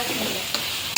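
Crushed onions sizzle and fry steadily in a hot pan for chole paneer, a dense close hiss with a couple of brief stirring scrapes and no talking.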